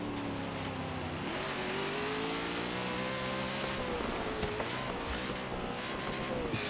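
Ford Mustang Boss 302 V8 in Forza Horizon 3, rumbling steadily and rising in revs with a rough, throaty growl, mixed with a hiss like rain on the road.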